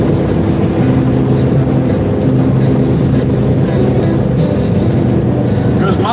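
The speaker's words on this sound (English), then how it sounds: "There goes Miss Crystal and the Midnight Hemi right there." A loud, continuous Hemi car engine roar fills the scene, a deep throbbing rumble with a whirring edge, steady and close throughout.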